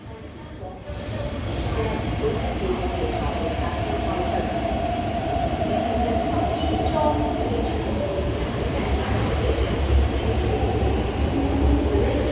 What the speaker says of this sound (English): But at least we can get a train departing.